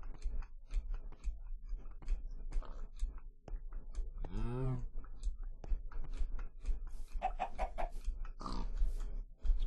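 Pigs in Minecraft, a single clear oink grunt mid-way among soft ticking footsteps and clicks, with a few other faint animal-like calls, quiet overall.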